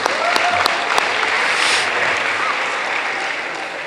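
A school assembly audience at a spring athletics gathering applauds the lacrosse goalies, a loud, continuous wash of many hands clapping that fills the whole stretch with a few sharper claps near the start.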